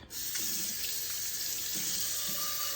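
Steady rush of hot tap water pouring into a sink, continuous and close, with faint clinks of dishes underneath.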